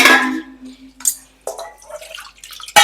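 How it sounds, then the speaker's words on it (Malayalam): Water goes into a simmering sambar curry in a few loud, separate splashing bursts with brief quiet gaps between them. "കുറച്ചും കൂടി ഒരു വെള്ളം ഒഴിക്കട്ടെ."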